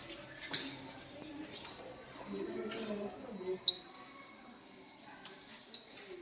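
A smoke-detecting fire alarm lets out a loud, steady high-pitched tone for about two seconds after a few quiet knocks and handling sounds.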